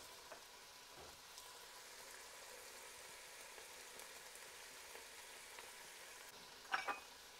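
Garlic frying with vegetables and celery leaves in a pan, a faint, steady sizzle with a soft hiss throughout, ending in a couple of brief clinks.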